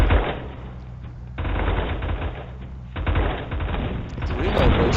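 Sustained bursts of automatic gunfire in the combat game M.A.V., with shotgun and sniper weapons in play, rattling loudly and continuously across the whole stretch with a heavier surge midway and near the end, no talk over it.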